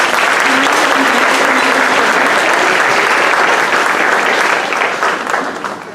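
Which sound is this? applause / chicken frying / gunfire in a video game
applause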